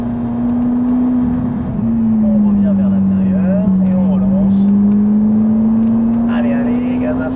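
A Ferrari 458 drives a lap of the Circuit Haut Saintonge, its engine a loud, steady drone that climbs gently in pitch as it accelerates, with faint speech over the top.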